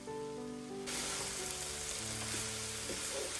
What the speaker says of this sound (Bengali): সেই তাজা শাকগুলো মায়ের হাতে হালকা তেল, সামান্য নুন আর বাড়িরই কাঁচা লঙ্কা দিয়ে চমৎকার করে ভাজা হচ্ছে